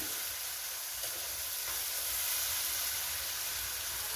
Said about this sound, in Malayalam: വെളുത്തുള്ളി ഒന്ന് നെയ്യിലിട്ടിട്ടൊന്ന് മൂപ്പിക്കണം